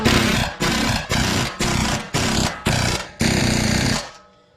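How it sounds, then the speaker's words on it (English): A 15mm ratchet wrench tightens a bolt during a lowering kit install on a Trailblazer SS, giving seven loud, close bursts of harsh buzzing clatter in a steady rhythm, the last one longer before it stops. "we'll take our 15mm ratchet, wrench. Go ahead and tighten this thing down"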